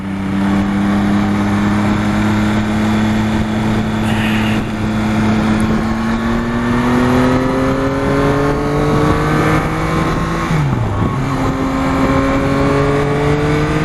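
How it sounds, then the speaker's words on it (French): A motorcycle engine runs steadily and loudly nearby, a sustained droning hum with slowly shifting pitch and a brief dip near the end, no voices. "cette moto elle marche vraiment bien"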